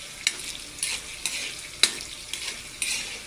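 Tofu with water spinach (kangkong) frying in a pan, a steady sizzle broken by several sharp stirring scrapes and clacks at irregular intervals.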